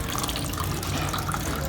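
Cold water pouring steadily from an outdoor tap, a close, continuous splashing rush that holds level throughout.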